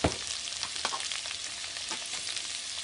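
Onions left to cook in a pan give a soft, even frying hiss with faint crackles throughout, quiet and close, no voices.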